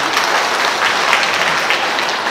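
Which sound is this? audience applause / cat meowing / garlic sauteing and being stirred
audience applause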